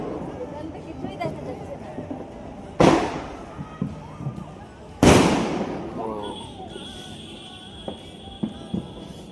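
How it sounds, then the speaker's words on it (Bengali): New Year fireworks: two loud booming bursts, each with a crackling tail, go off a couple of seconds apart over scattered popping and background crowd noise. "সবাই বাজি ফাটাচ্ছে।"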